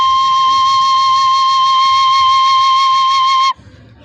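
A recorder sounds a single high C, held as one steady, bright tone for about three and a half seconds before it stops abruptly and a faint room hiss is left.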